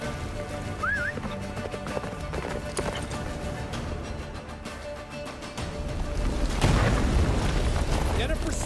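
Roach the horse gallops through a snowy blizzard in The Witcher 3, steady hoof clip-clop running under loud storm rumble and game music, with a burst of heavier roaring noise toward the end and voices nearby.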